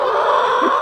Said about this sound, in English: Some happy chickens this morning.